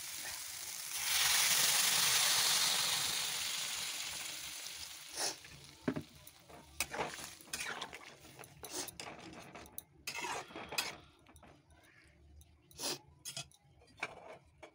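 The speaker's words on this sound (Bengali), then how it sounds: "সবজি ভালো করে কষানো হয়ে গেছে, এখন দিয়ে দেবো গরম জল।" Hot water is poured onto sautéed vegetables, including eggplant, in a pan for a dried fish curry. A strong hiss of sizzling steam rises and fades over a few seconds, then scattered scraping and clinking stirring sounds follow.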